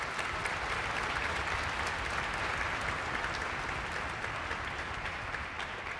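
Steady, dense applause from a school music festival concert audience in Philadelphia, continuous and even throughout with no voices standing out.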